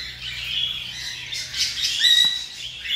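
Emerald cockatiels calling in a flight cage: continuous squawks and shrill chirps from several birds, fairly close and steady, with a louder whistle-like call near the end and no talking.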